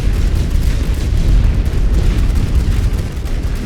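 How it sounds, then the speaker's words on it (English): Artillery explosions in the World War I strategy game The Great War: Western Front, forming a loud continuous rumble of deep booms that rolls on without a break. "Their artillery is being a bit of a nuisance."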